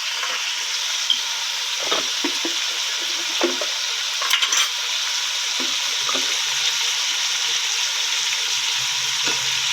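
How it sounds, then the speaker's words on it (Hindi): Beef sizzles and fries with spices in a pot for pulao, a constant close crackling hiss broken by a few stirring scrapes and clinks, with no one talking. "अब हम इसकी भुनाई 15 मिनट करेंगे ताकि ये अच्छी तरह भून जाए"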